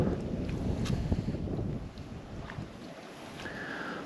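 Wind gusting across a lake in Tasmania's Great Lakes region, buffeting the microphone with a steady low rumble that eases slightly partway through, with no voices.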